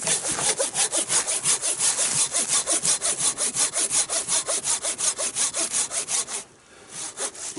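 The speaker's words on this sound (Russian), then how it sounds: "Зажимай на изгибе пилишь" Hand saw cutting back and forth through a dry log in a cold winter forest, a steady run of close, loud rasping strokes that stops near the end.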